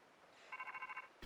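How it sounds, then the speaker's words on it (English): A phone ringing in the video game Pokemon Scarlet, a short, quiet electronic chirping ring with rapid pulsing tones lasting about a second, no talk. "Oh, there's my phone."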